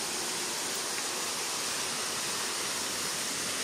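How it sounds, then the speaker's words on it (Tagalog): A small roadside waterfall gives a steady, broadband rush of falling water, close and constant throughout, with no voices. "mini falls"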